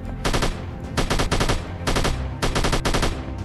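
Rapid bursts of automatic gunfire in the 2017 beta version of the video game Free Fire, four or five short volleys close together, loud and sharp.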